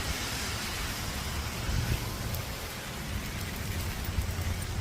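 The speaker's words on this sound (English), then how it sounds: "Yeah, it's raining for real." Rain falls steadily on a city street, an even hiss of drops with a faint low rumble, probably from passing traffic, and no talking.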